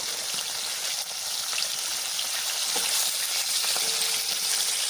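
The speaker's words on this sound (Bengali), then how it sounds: "তেল খুব ভালো করে গরম করে নিয়েছি এবার মাছগুলোকে ভেজে নেব" Fish pieces for a doi katla dish crackle loudly in hot oil, a dense, bright, unbroken sizzle heard close up with a few faint utensil touches and no talking.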